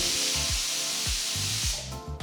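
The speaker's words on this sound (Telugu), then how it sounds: "ఇప్పుడు కుక్కర్కి మూత పెట్టి పొయ్యిని మీడియం ఫ్లేమ్లో ఉంచి పప్పుని నాలుగైదు విసిల్స్ వచ్చేంత వరకు ఉడికించాలి" A pressure cooker of fenugreek-leaf dal on a medium flame lets out a loud, steady hissing steam whistle, close and continuous, with low rattling pulses underneath.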